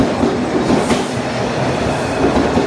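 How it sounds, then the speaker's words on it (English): A commuter train rolls northbound into Rosedale station in Toronto, a steady close rumble and rail clatter filling the whole stretch with no voices over it. "There must have been a delay, because it is back-to-back-to-back trains"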